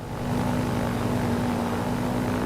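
A Blackwing 635 light propeller airplane flying over Sardinia holds a steady, droning engine and propeller hum with a fixed tonal buzz, close and continuous, with no voices.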